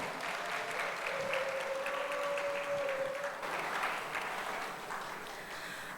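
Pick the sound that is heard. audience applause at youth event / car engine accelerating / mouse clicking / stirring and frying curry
audience applause at youth event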